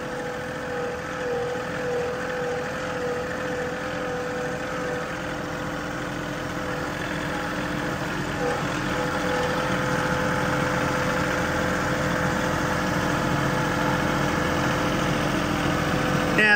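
A zero-turn lawn mower's engine runs steadily, a continuous mid-pitched drone with a low rumble and faint knocking undertone that grows slightly louder toward the end, heard alone without speech.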